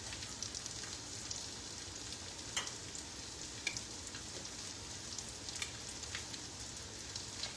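Eggs fry in a pan for a brunch breakfast bowl, giving a continuous soft crackling sizzle with scattered tiny pops, fairly quiet and close, with no talking.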